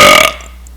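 A single loud, close burp lasting about a quarter second and then cutting off, followed by quiet room tone, with no talking.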